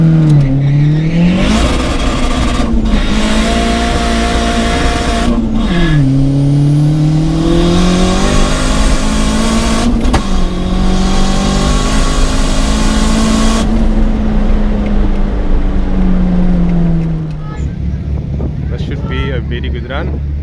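A City Golf engine revs hard on a dyno, climbing through the gears with rising pitch and brief dips at each shift, loud and close, before dropping back to a lower idle-like drone at the end.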